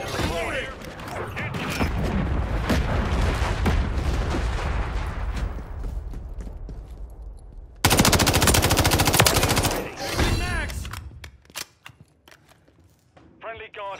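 Call of Duty MW3 gunfire rattles in dense, loud automatic bursts, then a sharp blast and scattered shots trail off into quieter pops, with a voice shouting over the battle.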